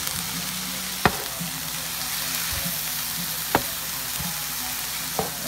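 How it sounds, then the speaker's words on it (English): Vegetables sizzle in a hot pan after a splash of soy sauce, a steady bright crackle for fried rice, broken by three sharp utensil knocks against the pan; no voices. "I'm gonna add a little soy sauce to my veggies"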